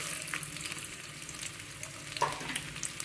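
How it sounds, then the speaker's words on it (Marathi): Chopped onion fries in about half a ladle of oil for an egg curry, giving a faint, even crackle with a few soft stirring clicks and no voices. "मग त्यामध्ये आता मी एक कांदा चिरलेला टाकत आहे."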